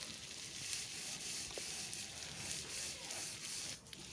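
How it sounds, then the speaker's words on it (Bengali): Chana dal frying with bottle gourd in a pan gives a steady, soft sizzle that runs unbroken and fairly quiet throughout. "যতক্ষণ না হচ্ছে ততক্ষণ ভাজবো।"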